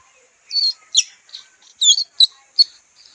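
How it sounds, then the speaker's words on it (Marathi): A sparrow chirps in short, sharp bursts, about seven quick high calls spaced irregularly against a quiet background in rural Konkan scrubland. "मस्तपैकी चिमणी ओरडते ती"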